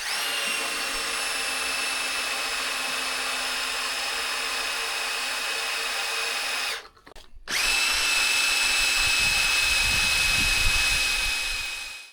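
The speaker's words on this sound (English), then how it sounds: "So there we have it, hole drilled in" A power drill bores a hole into a black painted piece, running steadily and loud for about seven seconds, stopping briefly, then whining on again for several more seconds.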